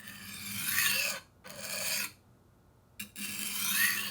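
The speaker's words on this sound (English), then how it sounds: "And you just roll it back and forth, and then eventually it'll sharpen your knife." A rolling knife sharpener with internal bearings is rolled back and forth against a butter knife, giving a close, steady rasping scrape in three bursts with brief pauses between them.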